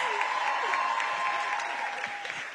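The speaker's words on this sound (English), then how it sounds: "A round of applause for our lead pastor, Reverend George Macharia." Church congregation applauding during a Sunday service, a steady wash of clapping that holds for the whole stretch with no one speaking over it.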